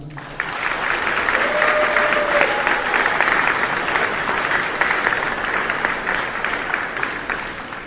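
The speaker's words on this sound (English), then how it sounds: "Give them a round of applause." A school assembly audience gives the color guard members a round of applause, dense and sustained clapping filling the hall for the whole stretch, with a brief faint voice early on.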